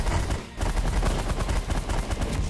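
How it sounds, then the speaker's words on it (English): A minigun in The Last Federation fires on full auto, a fast, continuous rattle of shots at a steady clip. Only a brief dip near the start breaks the sustained barrage. "Let's do the auto fire with the minigun, so it will take down a lot of these small guys"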